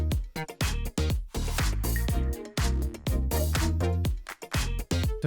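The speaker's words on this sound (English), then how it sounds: "This is a little kind of groove that I made," An EDM percussion groove with a triplet feel plays close and loud, punchy kicks and snappy hits in a tight repeating pattern over a deep bass line, with no voices.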